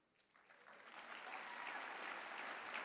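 An audience at the 2020 CPAC conference bursts into applause that swells from faint to a full, sustained round of clapping within a few seconds, heard from a distance.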